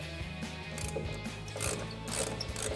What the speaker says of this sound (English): I'm going to take my T30 Torx and my 3/8 ratchet, get up in here,